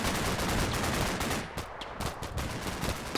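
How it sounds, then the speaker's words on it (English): Firefight in Combat Mission Cold War, engineers exchanging fire across a swamp: dense rapid bursts of automatic gunfire, overlapping cracks and rattles continuing without pause, loud and close. "Bit of a firefight ensuing with the engineers across the swamp there."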